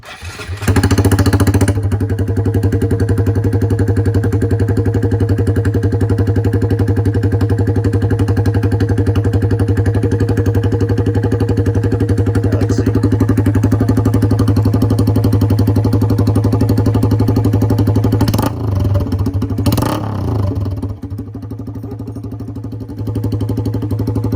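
Honda Grom motorcycle running with no exhaust cans, a loud, steady, close engine drone that holds almost unchanged for about twenty seconds, then dips briefly with a couple of short blips before settling back.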